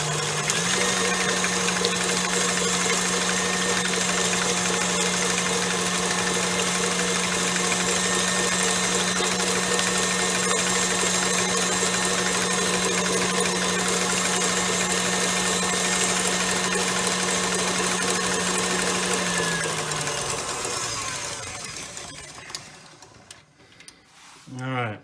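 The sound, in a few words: electric mixer beating egg whites on high speed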